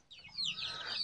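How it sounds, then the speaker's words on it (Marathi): A desi Gavathi hen gives a short, close cluck that rises into a high, drawn-out squawk, heard alone against a quiet farmyard background. "ही गावठी कोंबडी"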